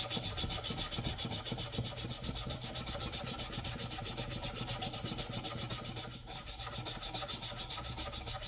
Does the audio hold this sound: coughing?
no